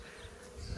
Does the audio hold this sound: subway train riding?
no